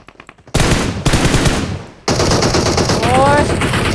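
Automatic gunfire in PUBG Mobile rings out as dense, loud bursts close by, two long sustained volleys separated by a brief drop.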